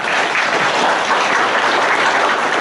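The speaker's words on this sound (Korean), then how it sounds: "여러분 격려 박수 한번" An audience at a family clan gathering gives a round of encouraging applause, a dense, loud, steady wash of clapping from many hands throughout.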